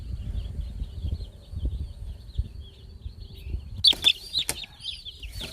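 Young chicks in a four-tier brooder peep in short high chirps, quiet at first over a low background rumble, then bursting into a louder, denser cluster of cheeping near the end.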